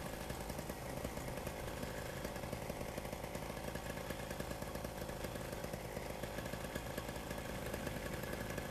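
Paramotor engine idling while soaring over Moab's arches, a steady dense buzzing drone with constant rough texture and wind, loud and unbroken throughout, no speech.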